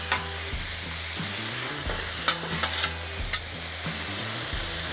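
Vegetables stir-fried over medium heat on a Blackstone griddle make a constant sizzle punctuated by a few sharp spatula taps and scrapes, while background music plays underneath.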